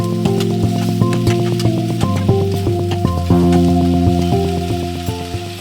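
Chopped pumpkin, bottle gourd and potato cooking in a pan for sambhar, with a soft continuous sizzle and occasional stirring clicks partly buried under louder tonal background music.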